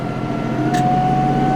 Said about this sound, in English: Don't know if the tractor will have enough juice or not.